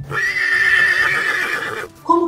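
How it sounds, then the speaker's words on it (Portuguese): A horse neighs in one long, loud, sustained whinny lasting well over a second, and a short separate sound follows right after it. "Esse é o relincho do cavalo."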